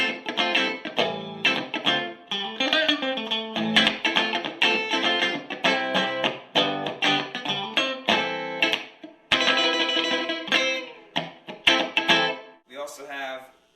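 Fender '69 Mustang reissue electric guitar with both pickups switched out of phase, played as a steady run of chords and single notes with a thin, vintage, effects-coloured tone, loud and continuous until a brief sparse ending.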